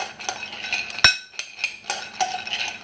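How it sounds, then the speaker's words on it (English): Spoon scrapes and clinks against a bowl of almonds in quick irregular strokes, with one sharp metallic clink standing out, close and fairly loud. "I'm going to pour this over the almonds and then stir them together"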